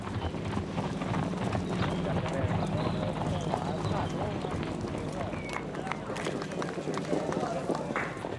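Trotting harness-race horses on Minorca, hooves clattering in a fast, steady rhythm close by, with a constant rumble of crowd noise and voices underneath throughout.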